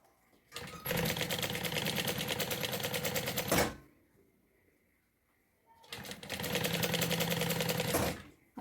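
A sewing machine stitches a zipper onto a synthetic bag in two long bursts of fast, even, rattling stitching, loud and close, separated by a brief quiet pause.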